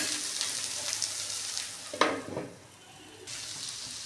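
Bitter gourd and new potatoes sizzle steadily in a hot pan, with a brief scrape and clatter of stirring midway before the frying settles back to an even hiss; no one speaks.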